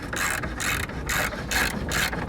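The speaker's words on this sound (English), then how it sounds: "just put back in those radiator bolts there" A ratchet wrench tightens radiator bolts on a Renault Megane 2, making five quick bursts of close, rapid clicking separated by short pauses, with no talk.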